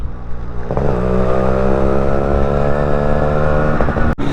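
Motorcycle ridden along a winding hill road near a wildlife sanctuary, engine droning steadily close up with clear harmonic tones, a gear change near the start and a brief dip at the end.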